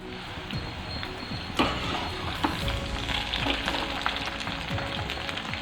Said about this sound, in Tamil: இதுக்கு நல்லா கலர் மாறணும், டீப் ஃப்ரை ஆகணும்.